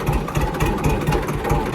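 An old tractor, very old and still working, runs with a steady low engine chug and a regular pulsing beat, close and fairly loud, with no voices over it.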